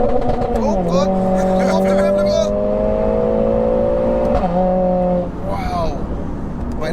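A tuned 500bhp Mercedes A45S accelerates hard in first gear, its loud engine note climbing steadily in pitch through the revs, dipping briefly at a shift before rising again, with in-car talk over it.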